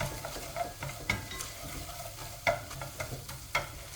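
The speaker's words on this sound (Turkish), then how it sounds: "Kıymalarımız kavruldu. Onun da kokusu çıkana kadar kavuracağız." Minced meat and flour roasting in a pan for yogurt soup, with a spoon stirring and scraping in several sharp clinks over a steady low sizzle, close and moderately loud, no talking.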